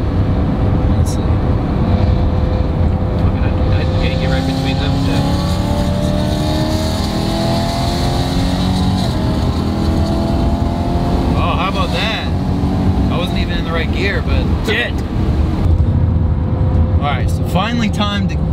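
A supercharged BMW E92 M3 V8 exhaust drones steadily while driving, with rising and falling engine tones and whine, close and loud inside the car as people talk over it.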